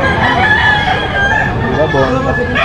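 A big, bulky gamefowl rooster crows loudly and close at a grotto farm, with clucking from other fowl and faint chatter nearby.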